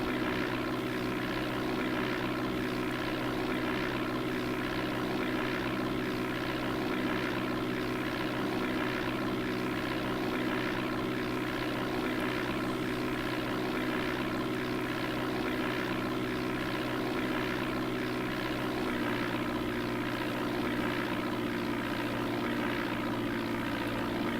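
Propeller aircraft engine in the DOS game Flight Simulator 4, a steady continuous droning hum with a constant pitch, unbroken and even throughout.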